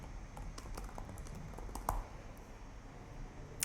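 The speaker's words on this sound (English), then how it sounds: "I'm going to type in Charles Klein merch" Keys clatter on a computer keyboard as a store name is typed in a quick, uneven burst of soft clicks, close and fairly quiet, with one sharper keystroke near the middle.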